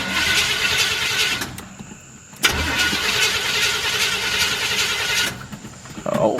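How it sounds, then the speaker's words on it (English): Cutlass car engine cranks and fires up, running loud and close, cuts out briefly, then restarts with a sharp catch and keeps running steadily before dropping off again near the end. "Crank this thing up."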